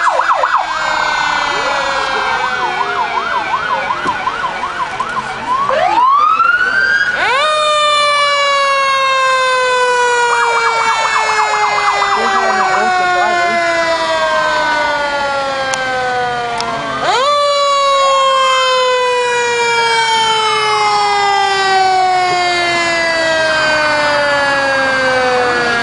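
Fire trucks roll past in a county 4-H fair parade, their sirens wailing loudly and continuously, with repeated rising-and-falling sweeps that restart partway through, over a steady low rumble of engines.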